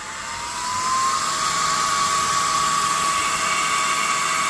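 A small cooling fan on a Segway UT10 scooter controller whirs up as it is switched on, a steady high-pitched whine that rises in pitch over the first second and then holds, close and alone.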